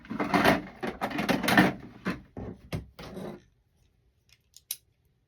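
Scissors snip through a pipe cleaner in a run of close, crisp crunching cuts, then a few faint isolated clicks after a pause.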